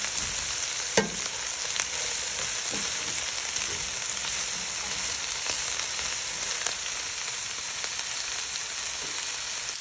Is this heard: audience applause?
no